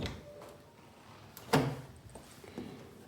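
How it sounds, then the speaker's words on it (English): An interior door between a bedroom and a Jack and Jill bathroom in a Morgan Hill, California house opens with a single sharp click and thud, close by, followed by faint handling sounds in a quiet room. "If you open the door"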